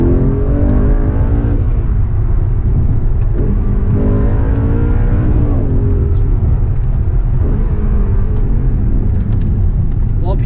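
An Audi R8 engine revs inside the cabin, a loud droning roar that climbs and falls in several rising sweeps, with steady road and wind rumble underneath.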